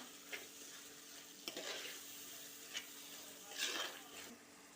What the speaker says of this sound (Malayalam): ഇതൊന്ന് നന്നായിട്ട് ഇളക്കി ഈ പൊടികളൊക്കെ ഒന്ന് വേവിച്ചെടുക്കണം